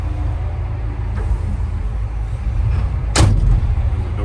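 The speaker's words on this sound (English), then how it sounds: "The door shutting." The cab door of a Hyundai HX145 excavator shuts with one sharp, solid thud over the steady low rumble of the idling machine.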